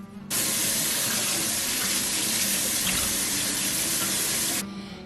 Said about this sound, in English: We are going to wash the squash.